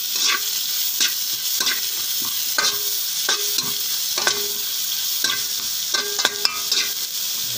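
Onions sautéing in a pan for pancit bihon give a steady bright sizzle, broken by repeated scraping and clicking stir strokes, with no talking.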